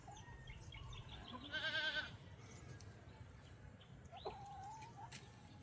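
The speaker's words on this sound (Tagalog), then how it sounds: "Kambing natin doon sila, oh." Goats on a farm call out, with a brief bleat rising over a quiet outdoor background of rustling and distant animal sounds, followed by a softer call a few seconds later.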